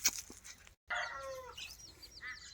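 Farm chickens on a groundnut and oil palm plot cluck and squawk in short bursts, close and fairly clear, with a brief gap of silence partway through and a flutter of wings.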